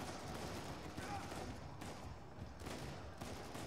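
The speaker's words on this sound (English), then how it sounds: "I told you to stop shooting me!" Bursts of gunfire in an Uncharted video game, a dense rattling fusillade filling the few seconds at steady loudness with no pauses.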